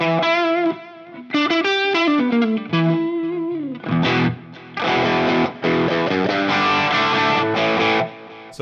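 Electric guitar through a Fractal FM3 amp modeler on a Marshall 1959SLP treble Plexi preset, first clean-ish chorused arpeggiated chords, then loud distorted power chords in punchy bursts, played alone with no talking.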